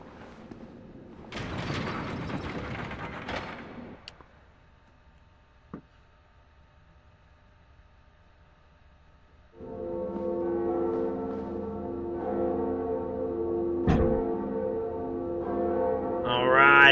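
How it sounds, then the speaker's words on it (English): Bell-ringing mechanism in the Dark Souls video game: a burst of mechanical clatter and creaking, a pause with a single click, then a loud, sustained ringing tone that swells toward the end. "let's ring the bell first. Ring the bell."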